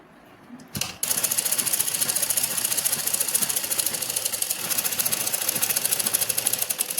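A sewing machine joins an extra-cut belt strip onto a printed salwar, starting after a brief pause and then running steadily and loudly with a fast, even mechanical rhythm right up close.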